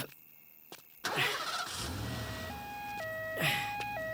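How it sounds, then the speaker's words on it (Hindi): A car engine cranks and starts after a couple of door or key clicks, then settles into a steady idle, with a faint tonal whine layered on top. "पहले गाड़ी स्टार्ट करवा दो"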